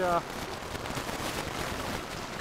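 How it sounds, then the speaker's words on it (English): Steady outdoor rain during a gold prospecting trip in New Hampshire, an even broadband hiss that runs throughout after a brief louder sound at the very start. "It's raining out."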